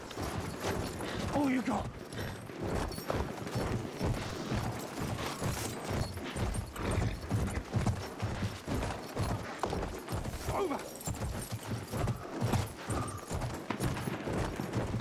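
A horse galloping in Battlefield 1, rapid rhythmic hoofbeats pounding throughout amid gunfire and game clatter, with a player talking over it.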